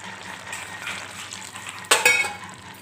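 Dry fish and a little water tipped into a simmering curry in a pan, a brief splash and hiss near the end over steady spoon stirring and scraping.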